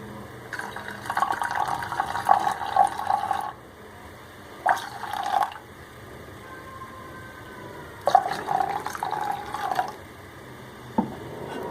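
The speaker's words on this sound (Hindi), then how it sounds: "इसके साथ ही हम इसके अंदर डाल देंगे दूध।" Milk pouring into a pot of Kashmiri chai, a liquid stream in several separate bursts of steady splashing with quiet gaps between them, close and alone.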